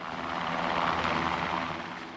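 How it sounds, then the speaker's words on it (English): U.S. military helicopters flying relief after the 2005 Kashmir earthquake make a loud, continuous rotor and engine drone that holds steady throughout, with no voices. "The U.S. military has sent in badly needed helicopters."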